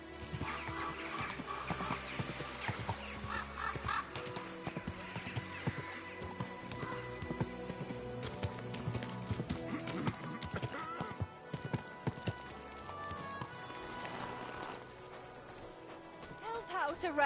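Hooves clip-clop at a slow walk while a horse whinnies in the video game Kingdom Come: Deliverance 2, with game-like background music and scattered speech layered throughout.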